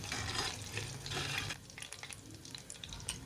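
Prawns koliwada fry in a pan of hot oil with a steady, close sizzle that drops to softer, sparse crackling partway through.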